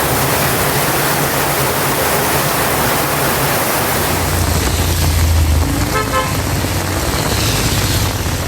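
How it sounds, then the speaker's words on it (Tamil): Heavy summer rain driven by strong wind pours as a dense, loud, steady roar, with a brief vehicle horn toot partway through and no talk. "திடீரென சூறைக்காற்றுடன் கனமழை பெய்தது."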